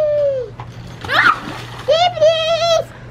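Water splashing in a small filled kiddie pool as a young child plays, with bursts of sloshing between children's excited voices and shouts nearby.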